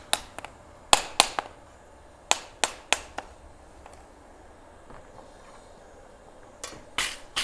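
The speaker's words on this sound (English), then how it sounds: "Use that rawhide mallet to straighten everything up." A rawhide mallet knocks hot metal straight at a forge: a quick cluster of sharp, close strikes, then a quiet pause, then two or three more hits near the end.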